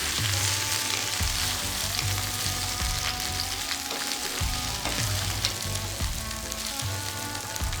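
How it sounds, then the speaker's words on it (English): Eggplant frying with golden-brown onions in a hot pan for a vegan curry, a steady loud sizzle broken by the scrape and clatter of a few stirs, with no talking. "Put all the eggplant here and then give it a stir."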